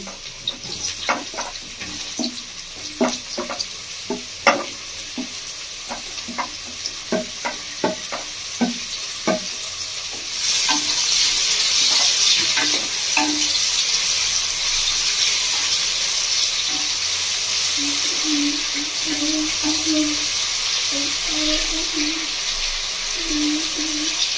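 Fish frying for fried rice with onions in a pan, stirred with intermittent spatula scrapes, then a loud steady sizzle swells as the fish goes in and keeps bubbling under occasional clinks.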